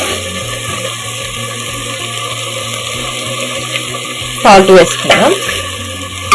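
Fenugreek leaves fry with salt in a pan for mushroom methi rice, a soft, continuous sizzle under a steady background hum, broken midway by a loud burst of clattering stirring.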